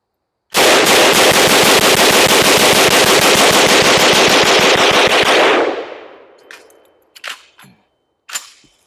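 Rapid automatic fire from a Krebs custom rifle with a sticky, sluggish bolt: a loud, dense burst of shots for about five seconds that cuts off, followed by a few scattered clicks and clunks.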